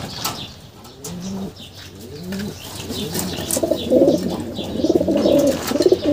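Pigeons cooing close by in a loft, with repeated low throaty coos that grow busier and overlap toward the end, along with faint rustling and a few light chirps.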